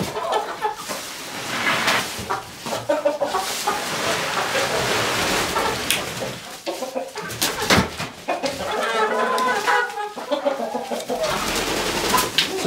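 Several chickens cluck and squawk close by in a busy, noisy coop, with overlapping calls and flapping throughout.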